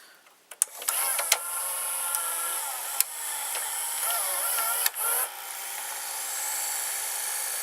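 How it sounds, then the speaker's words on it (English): A Toshiba or JVC VCR's noisy motor whines as it loads a cassette, opening with a few clicks and clunks, then a steady, shifting mechanical drone that runs close and alone to the end. "You will hear the motor is very noisy."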